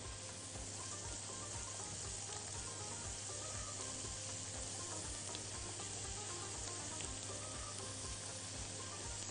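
Garlic sizzles steadily in a hot pan as it fries toward a light golden color for a cheese pasta, a dense continuous crackle with no talking, under a low rhythmic hum.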